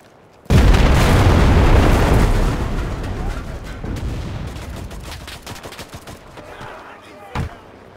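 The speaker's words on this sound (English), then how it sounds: "artillery!" Heavy artillery fire blasts in a Normandy battle from the video game Enlisted. A sudden loud explosion leads into a long rolling rumble of distant booms and crackling gunfire, then a sharper blast near the end.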